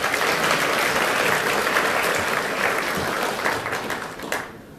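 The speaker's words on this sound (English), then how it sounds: "So, a round of applause for Bertie, please." Audience applause at an EGX gaming convention talk, a loud, steady wash of clapping from a crowd that carries on for several seconds before tapering off at the end.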